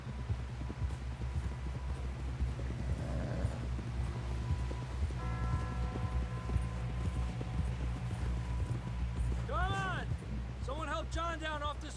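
Horse hooves clip-clop in the Red Dead Redemption 2 opening, a steady trotting rhythm under a constant low background hum, with a horse whinny near the end.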